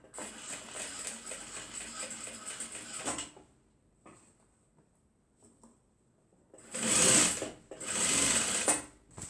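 A sewing machine back-stitches over a tote bag handle: a steady whirring run of stitches, a pause with small handling noises, then two short, louder bursts of stitching close by.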